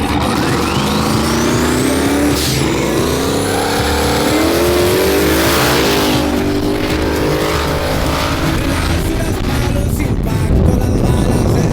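Turbocharged truck engine revving hard during a race, a loud continuous roar with rising and falling pitch sweeps and faint tire squeal, no talk.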